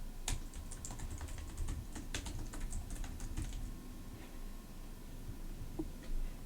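Account credentials typed on a computer keyboard, a quick run of close, crisp key clicks in irregular bursts that thins out to a few isolated taps before stopping.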